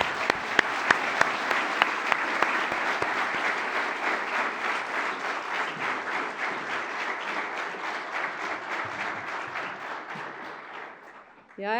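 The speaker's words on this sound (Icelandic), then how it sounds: "Ég legg til að við gefum þessum flottu krökkum gott klapp." Sustained applause from an audience at a graduation ceremony for the 2010 class of students, steady dense clapping with a few sharp early claps, continuing evenly for the whole stretch and ending abruptly.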